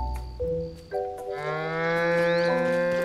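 Several cows moo in long, drawn-out calls that overlap and stack into a steady chorus, with a few short notes first and fuller, sustained lowing after, in the farm pastures of Hateno Village in The Legend of Zelda: Tears of the Kingdom.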